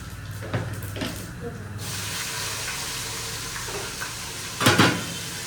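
Asafoetida sizzles as it hits hot oil to temper mung bean dal in an Indian home kitchen. A steady, close frying hiss is broken by a few soft knocks and a louder spurt of spitting near the end.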